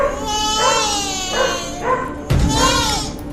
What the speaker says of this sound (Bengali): এখানে আবার কি কুকুরের যে সাউন্ডটা সেটাও কিন্তু আমাদের দরকার